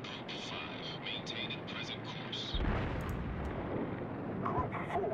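Torpedo bomber aircraft in the naval combat game World of Warships: a steady engine drone rises to a louder rumble with booming bursts of gunfire and explosions, all fairly close.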